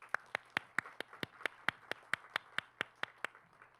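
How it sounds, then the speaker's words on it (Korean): Measured, evenly spaced claps ring out at a keynote event, a sparse steady rhythm of distinct hand claps at moderate distance, fairly quiet, with a low hum beneath and no talking. "여러분 큰 박수 다시 한번 부탁드릴게요"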